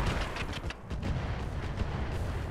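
Mech weapons firing in the Roguetech video game: a dense, continuous barrage of heavy booms and crackling blasts, loud and close, rumbling without a break for a couple of seconds.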